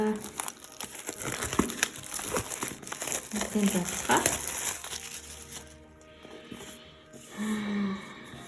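Crinkling and crumpling of packaging as a Ryder Carroll bullet journal notebook is unwrapped during an unboxing, with a close, continuous rustle that fades briefly near the end before returning, while a voice talks intermittently.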